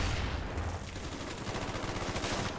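Sustained automatic fire from an AUG rifle with dual mags during a Domination match in Call of Duty: Black Ops, a dense rapid rattle of shots running steadily and loudly throughout with no talk.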